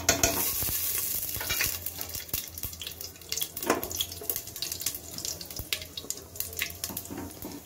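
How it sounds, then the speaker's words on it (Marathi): Cumin seeds, cloves, a cinnamon piece and green cardamom crackling in hot oil for tempering, a busy sizzle with scattered sharp pops and stirring clatter, close and fairly quiet. "जिरं छान तडतडलं"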